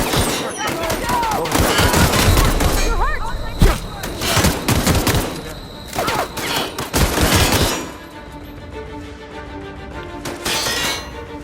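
Pistol gunfire in the video game The Outer Worlds, several loud sharp shots with crashing, breaking impacts, dense at first and thinning after about eight seconds, mixed with game effects.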